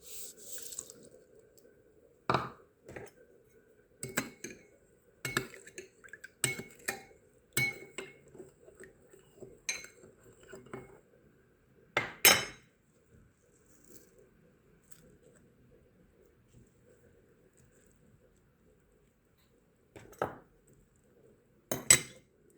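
A knife slicing an onion into rings on a cutting board, heard as sparse, irregular crisp taps and cuts, close and fairly quiet, with gaps of near silence between strokes.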